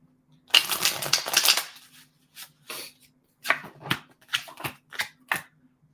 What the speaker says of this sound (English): Yeah, throw some cards down.